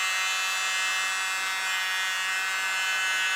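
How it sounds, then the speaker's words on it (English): A small blower pushing fluid acrylic paint across an artwork, a steady close high-pitched electric buzz with an airy hiss, continuous and unbroken for a few seconds. "Let's use my little blower. See if I can move a little bit of paint around"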